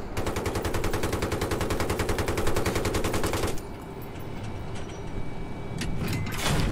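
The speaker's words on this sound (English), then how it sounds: "you just change to your Gatling and you can kill them both." A Gatling gun in Battlefield 3 fires a fast, even rattle of shots for about three and a half seconds, loud and close. It then cuts off to quieter battlefield noise with a few scattered impacts.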